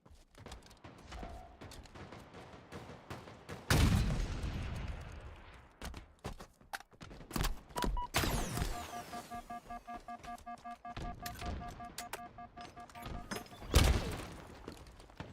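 Halo match sounds with a loud grenade blast near the start, a second heavy explosion near the end, and bursts of gunfire and ringing electronic effects in between, all close and loud.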